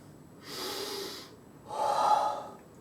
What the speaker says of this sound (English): after normal inhalation, just inhale deeply, and after that exhale forcefully